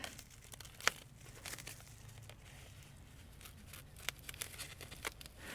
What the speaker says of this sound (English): Just be careful as you cut this guy open.